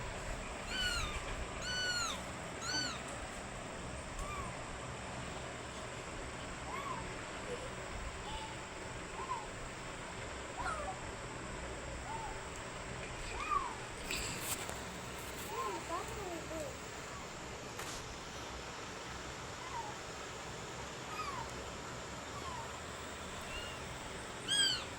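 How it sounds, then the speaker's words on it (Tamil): A tiny stray kitten meows in a thin, high voice, several quick cries at the start and a few scattered ones later, over a noisy background with people talking. "ஒரு குட்டி பூனைங்க, ரொம்ப குட்டியோன்னு."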